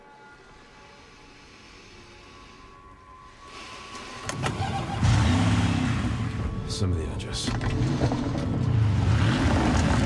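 A promo car in the video game Resident Evil Requiem runs with a low engine rumble and hum that builds partway through and stays steady, under speech and game dialogue.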